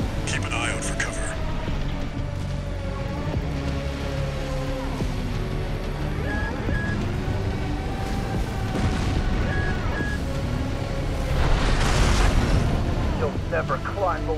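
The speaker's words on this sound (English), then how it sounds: "There's heavy fire coming from up top." Heavy gunfire and explosions in the Armored Core VI mech combat game, a dense continuous barrage of booms and rumbling blasts that swells louder near the end, with a voice talking over it.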